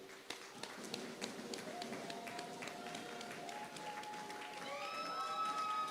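Audience applause at a convocation ceremony, steady distant clapping from a crowd with voices and sustained tones mixed in, moderately faint throughout.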